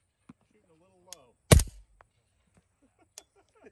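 A single sharp shot from a suppressed 300 Blackout rifle firing Freedom Munitions Hush 220 grain subsonic rounds, a short muffled crack with a brief tail, set among scattered quiet talk and small handling noises outdoors.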